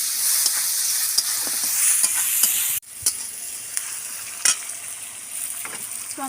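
Onions frying in a pan for a jackfruit and prawn dish, a steady loud sizzle with occasional stirring scrapes and a brief drop midway before the hiss resumes.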